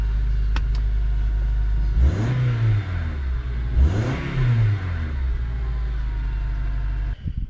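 A Honda Element engine idles with a steady low rumble and is revved twice in quick swells before settling back; the engine carries a cylinder 2 misfire fault.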